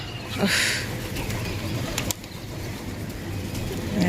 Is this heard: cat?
no